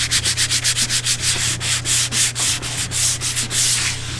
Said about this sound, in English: so we got our sandpaper and our sanding block